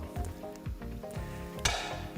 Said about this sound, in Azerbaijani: Çərə yağı öz nehrəsini buraxmalıdır, qəşəng ərisin.